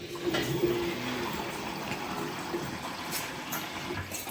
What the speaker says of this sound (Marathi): हे याच्यामध्ये पाण्याचा आवाज येते.